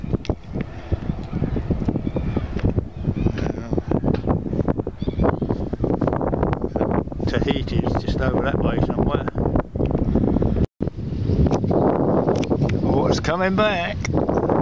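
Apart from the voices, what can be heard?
strong wind on a boat at the shore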